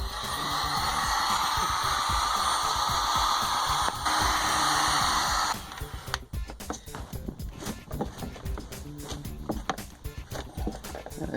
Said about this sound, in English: It's my industrial strength hair dryer